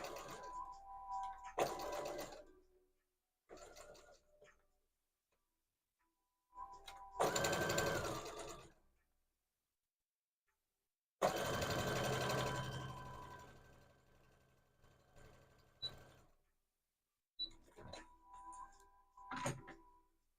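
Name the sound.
sewing machine stitching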